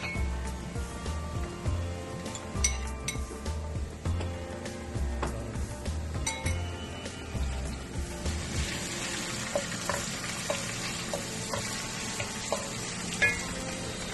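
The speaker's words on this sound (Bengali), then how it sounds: "এখন আমরা আদা রসুনের কিউবগুলো দিয়ে দিলাম।" Ginger and garlic cubes fry with onions in a pan for chicken liver and gizzard biryani, making a steady quiet sizzle broken by repeated scraping and clattering stirs, with a running-water wash later on.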